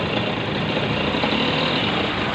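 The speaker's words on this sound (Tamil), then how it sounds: "த்ராட்டில் கொடுத்துக்கிட்டே இருக்கேன்." A motorcycle engine held under steady throttle, a continuous broadband running roar with no clear rise or pause over the short stretch, close and fairly loud.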